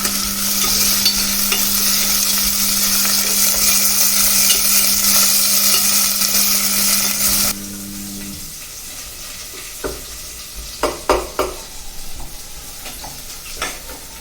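Onions, green chillies and curry leaves fry in a pan for a simple potato curry, a loud steady sizzle that cuts off partway, followed by a few scattered stirring taps.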